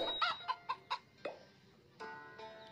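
Chickens in a farming video game, Farm Town, give a short run of clucks in quick succession, clear and close, followed by softer game sounds with no talk.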